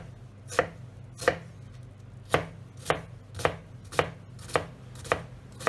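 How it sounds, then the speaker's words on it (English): A knife chops a white onion on a board with about ten crisp, evenly spaced strikes, close and clear over a low steady hum, with no voices. "And all we want to do with our onion is just chop it up."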